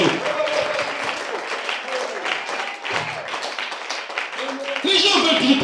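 A church congregation claps and applauds for the Lord Jesus, a dense, steady wash of many hands kept up without a break, growing a little louder near the end, with some voices mixed into the noise.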